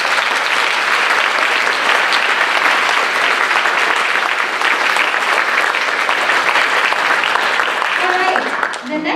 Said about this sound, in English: So, round of applause for Mr.